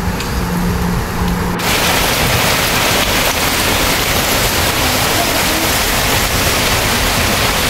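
Heavy monsoon rain pours down on a Sundarbans village, a loud, dense roar of water that swells abruptly after the first second and then holds steady and close with no voices.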